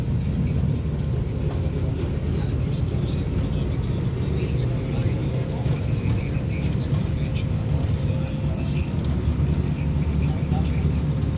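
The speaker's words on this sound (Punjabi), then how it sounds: "ਇਸ ਟਾਈਮ ਤੇ ਬੈਠੇ ਹਾਂ ਸ਼ਿਪ ਜਹਾਜ਼ ਦੇ ਵਿੱਚ" Steady, loud low-pitched engine rumble of a ship underway to North Vancouver downtown, with a continuous droning ride noise that never lets up.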